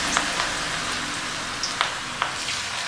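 Boiled elephant foot yam deep fries in hot oil for a wedding-style fry, giving a steady close bubbling sizzle with a few scattered pops and small spatters, with no talking.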